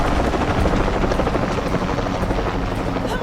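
A helicopter in the video game Shadow of the Tomb Raider, a loud, continuous rotor roar with a dense, steady thrum and no voices over it.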